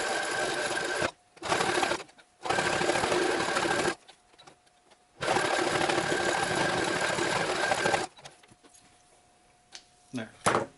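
A sewing machine stitches along the edges of a fabric wrap in several bursts of steady, close whirring, separated by short pauses and quieter handling sounds.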